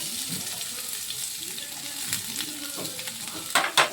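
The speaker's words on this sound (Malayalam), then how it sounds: "സവോളയും കൂടി ഇട്ട് കൊടുക്കാം" Onion with garlic and green chili fries in a pan for a papaya thoran, giving a soft, continuous sizzle with light stirring scrapes and a louder clattering burst near the end.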